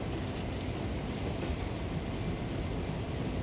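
A runaway train in the video game Persona 3 Reload rushes along at speed as a steady, dense, loud rumble with no clear rhythm of wheel clacks, filling the whole stretch without a break.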